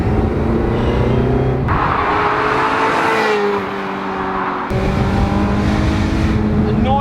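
A Ferrari 355 Spider's engine revs hard and high, climbing in pitch and changing tone around 6,000 rpm, dipping briefly between shifts, then surging again, loud and close.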